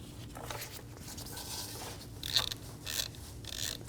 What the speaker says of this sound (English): Using a 12mm socket, we're going to remove the bottom bolt for the intake manifold.